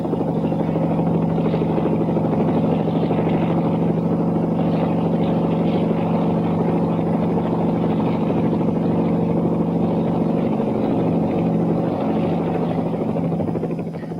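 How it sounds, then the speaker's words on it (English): A helicopter flying over deep snow during the 1963 Big Freeze rescue flights, its engine and rotor a steady, fairly loud drone held evenly throughout, with no voices. "It's no wonder the helicopters had the busiest week in their history."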